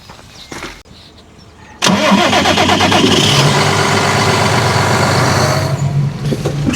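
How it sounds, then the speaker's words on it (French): A farm tractor's engine cranks and catches, then settles into a steady, loud idle as it warms up before trench-digging earthworks, with quieter ambient noise and clanks just before it starts. "Le temps que le tracteur chauffe un peu"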